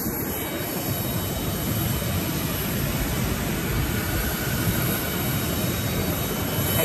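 Steady, loud broadband roar of a private jet at Burbank airport, heard close and continuous throughout with no voices over it.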